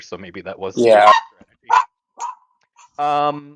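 A pet dog barks several times nearby during an online Twilight Imperium tournament match, sharp yaps and a whine breaking in between and over people talking.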